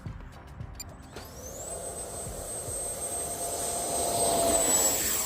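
A FlyFans twin 64mm 6S EDF SU27 Flanker RC jet spools up, its ducted fans rising from a low hum into a loud steady whine with a climbing high tone that builds through the takeoff run.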